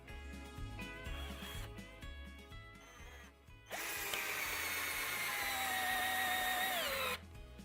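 An Avid Power cordless drill drives a screw into wood with a loud, steady, high-pitched whine. The motor runs for about three and a half seconds after some quieter handling sounds, then stops abruptly.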